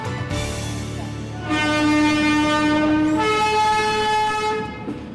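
A train at New Delhi railway station sounds a loud, sustained horn in two long blasts with a short break between them, over the rumble of the rolling train close by.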